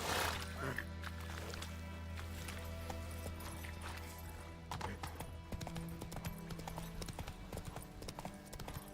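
Roach, the horse in The Witcher 3, gallops with a steady, rapid clip-clop of hooves over a constant low game backdrop, fairly close and loud throughout.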